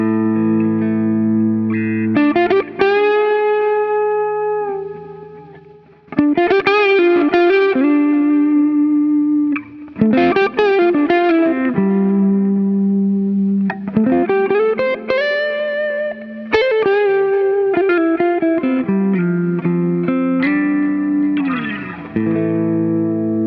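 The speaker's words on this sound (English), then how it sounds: "I was pretty happy with how the Roland Jazz took the tube screamer overdrive pedal" An electric guitar plays sustained chords through a Tube Screamer overdrive pedal into a Roland Jazz amp, warm and slightly gritty, ringing loud and full with gentle breaks between phrases.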